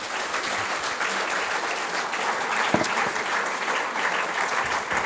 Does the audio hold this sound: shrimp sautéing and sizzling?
no